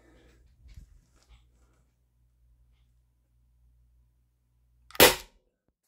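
An Umarex HDP 50 compact pistol running on high-pressure air fires a single loud, sharp shot near the end, after several seconds of near silence with a few faint handling noises.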